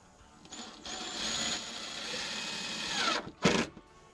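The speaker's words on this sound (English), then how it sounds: "you're going to run the screws up through the bottom into the 4x4" A power driver runs screws up through the underside of a deck bench into a 4x4 post, a steady whirring burst of a few seconds followed by a short sharp spin, fairly faint and close.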